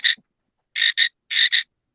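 A voice imitates a frog croak in a late-night catfishing conversation: a short croak, then two quick pairs of raspy, throaty bursts with clear gaps between them.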